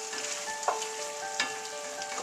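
Steak fajita meat fries in a pan over high heat, giving a constant close sizzle broken by a few brief sharper crackles and pops and no voices.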